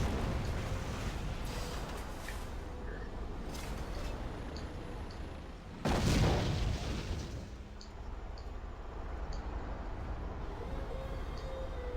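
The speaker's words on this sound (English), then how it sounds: "That's a lot of mortar shells." Mortar shells burst in the real-time strategy game Rise of the Reds: scattered distant pops and rumbles, then one loud, close explosion near the middle, fading into a low rumble.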